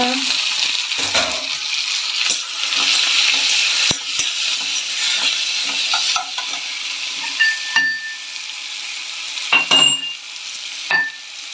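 Onions and tomatoes with curry leaves sizzle steadily in an oiled pan, with occasional stirring scrapes and small clinks of a utensil against the pan.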